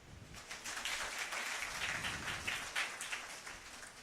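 Clapping from a congregation at St. Anthony's Feast church service, steady crisp patter of many hands, fairly faint and continuous.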